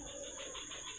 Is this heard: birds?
yes